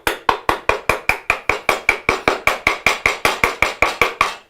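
Rapid, steady series of about twenty-two sharp mallet strikes on a chisel held bevel down while cutting a wood dado, each hit crisp and close with a short ringing decay, no talking.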